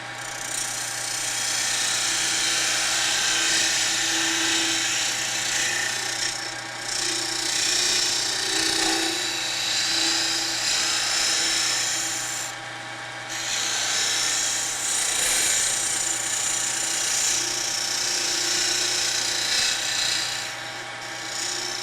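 Wood lathe spinning a wooden piece while a tool trims it down, a continuous high rasping, scraping whir with a steady motor hum beneath, briefly easing off a few times as the cut pauses, close and fairly loud with no talk.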